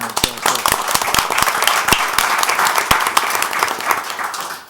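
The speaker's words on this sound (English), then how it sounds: "So we'll give you a round of applause." An audience applauds the Young Entrepreneurs Academy winners with sustained clapping, sharp individual claps standing out near the front over a broad crowd wash.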